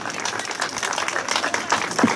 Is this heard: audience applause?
yes